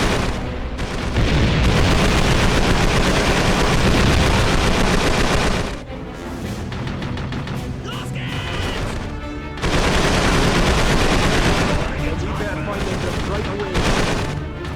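Call of Duty 3 on PlayStation 2 battle gunfire: dense, loud bursts of rifle and machine-gun fire with booming impacts, easing briefly in the middle before the heavy firing resumes.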